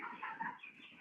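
Farm chickens at about six weeks old give soft, faint clucks and short murmuring calls in a brief quiet moment.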